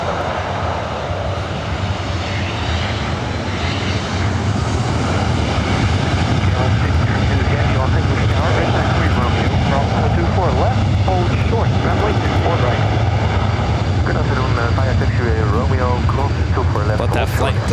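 Southwest airliner departing Los Angeles airport for Phoenix, a loud continuous jet engine roar building over the runway, with air traffic radio chatter mixed in.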